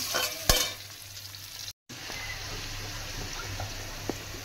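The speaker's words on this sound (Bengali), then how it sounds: "নুন আর হলুদটাকে আমি খুব সুন্দর করে মিশিয়ে নিলাম" Salt and turmeric being stirred into bitter gourd and potato frying in a pan, a steady sizzle with scraping stir strokes and a sharp clatter near the start, close and continuous with no talk.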